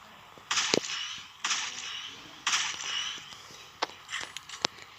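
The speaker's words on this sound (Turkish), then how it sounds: "Bayağı yakından sıkacağım bu sefer. Hem de headshot." Gunfire from the mobile game Rope Hero, fired at close range: four or five sharp, isolated shots spread over a few seconds, crisp and moderately loud against a quiet background.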